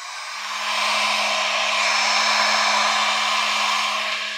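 A hair dryer blows steadily at close range while heating the hood of a Moskvich 3 car, a continuous airy roar with a faint motor hum that rises in and holds without pause.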